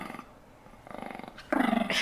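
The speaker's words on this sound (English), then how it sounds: "that odd vibrating, that was a dog." A dog gives a strange, vibrating growl in short pulsing bursts, a softer rumble first and then a louder, buzzing stretch near the end, fairly close and with no talking over it.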